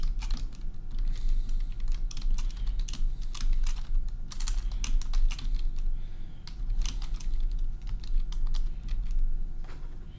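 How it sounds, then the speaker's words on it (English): Rapid continuous typing on a computer keyboard, dense clusters of crisp key clicks with brief pauses, close and fairly loud over a low rumbling background, no talking. "I don't know how to type an omega"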